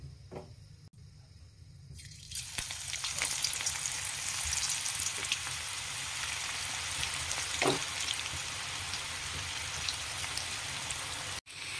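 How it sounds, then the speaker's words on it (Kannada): Soaked bitter gourd pieces drop into hot oil in a pan and set off a sudden loud sizzle, which settles into a dense, steady crackling hiss with a few faint knocks. "ಈ ಹಗಲಕಾಯಿನ ಒಂದ ಸ್ವಲ್ಪ ಕೆಂಪಾಗುವವರೆಗೂ ಫ್ರೈ ಮಾಡ್ಕೊಳ್ಳೋಣ್ರಿ"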